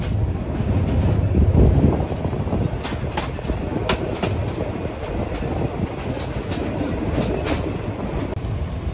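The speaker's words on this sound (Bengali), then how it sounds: "আমাদের ট্রেনটি এখন এই মুহূর্তে ছেড়ে গেল চাঁদপুরের মেহের রেলওয়ে স্টেশন" The Meghna Express passenger train, just departed Chandpur, rumbles steadily along the rails, wheels clicking irregularly over joints, heard from inside the carriage with wind rushing past.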